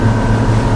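A Fjord 41XL motorboat engine roars at wide open throttle, around 3,850 rpm and 33 knots, a loud steady drone with a deep throbbing hum and no pauses.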